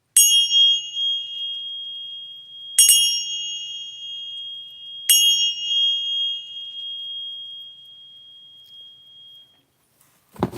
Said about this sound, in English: We're gonna work with the bells real quick just to clear the energies